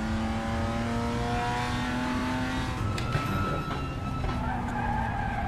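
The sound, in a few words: BMW M2 CS Racing traction control clacking, RaceRoom video game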